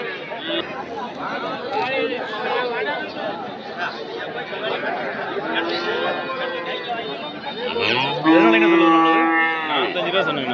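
Cattle low repeatedly at a busy livestock market in Anthiyur, with a loud, drawn-out moo standing out near the end over the constant chatter of traders and buyers.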